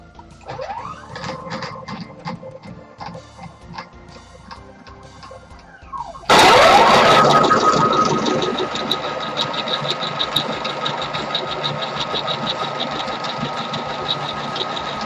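A homemade Arduino-controlled Cyclone machine runs its first tests: quiet mechanical clicks and ticks, then a loud motor starts abruptly and keeps whirring with a steady rapid rattle, close by.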